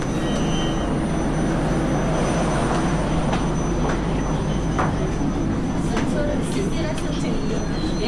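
An MRT or LRT urban rail train in motion, heard from inside as a steady broadband rumble and rail roar throughout, with faint voices talking over it.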